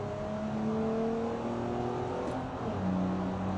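Simulated 1978 H 1500 car with an inline-six or V6 engine in a driving game, spinning its wheels through second gear, a steady loud engine whine climbing in pitch with a brief shift, heard alone.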